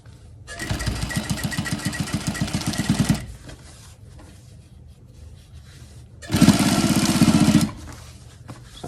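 A sewing machine stitches a fabric rose in two bursts of fast, rhythmic needle clatter, the first about three seconds long and the second shorter and louder, with quiet handling between them.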